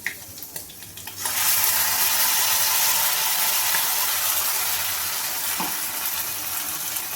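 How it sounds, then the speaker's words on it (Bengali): Ground spice paste hits hot oil in a wok while cooking a prawn and cabbage dish; after a brief quiet start, an abrupt loud sizzle erupts and holds as a steady close hiss. "এবার আমি মিক্সিতে যে মশলাটা পেস্ট করে রেখে দিয়েছিলাম সেটা আমি কড়াইতে দিয়ে দেবো।"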